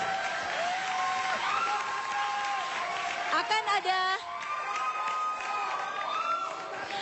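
An audience claps steadily for several seconds, a dense wash of applause with a few louder bursts partway through.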